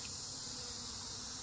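Honey bees around an opened hive in the field, a steady high buzzing drone that is faint and continuous, with no voices.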